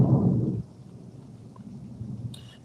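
Thunder rumbles low and heavy outside during a storm with rain, a deep roll that fades into a steady soft background wash, no voices present.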